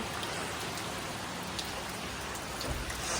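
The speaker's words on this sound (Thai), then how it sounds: "ตอนนี้ฝนตกปล่อยๆ" Steady, dense rainfall patters continuously on surfaces close by, a constant hiss with no voices or breaks.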